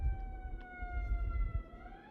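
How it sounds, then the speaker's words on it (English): An emergency siren wails outdoors, faint and distant, holding steady wavering tones over low background rumble. "There's a siren going on out there."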